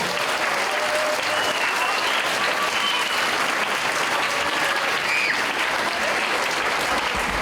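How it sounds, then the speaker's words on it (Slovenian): An audience at a school Christmas and New Year concert claps without pause, a dense, loud, even wash of applause lasting the full seven seconds, with faint crowd murmur beneath. "Prosim, en velik aplavz za naše sodelavce."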